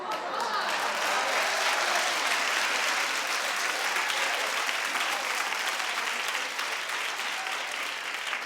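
A television talk-show studio audience claps continuously, a dense, loud, even roar of hands lasting several seconds with no individual claps standing out.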